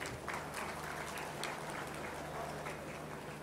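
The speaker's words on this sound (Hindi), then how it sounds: "आप सारे भी एक दफ़ा मिलके इन सब के लिए तालियां बजाएं प्लीज़" A crowd at a business launch event for a trade centre applauds, a fairly faint, even patter of many hands clapping from a distance with a low steady hum beneath.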